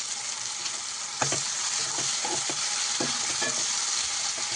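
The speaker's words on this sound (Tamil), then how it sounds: "தக்காளி போட்டு தக்காளி நல்லா வேகட்டும்" Tomatoes and onions sizzle steadily in hot oil while a spoon scrapes and stirs through them, the frying hiss constant and close with a string of sharp clicking stirs running through the middle.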